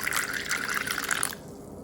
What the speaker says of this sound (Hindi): हाफ कप पानी डाल रही हूँ इसमें।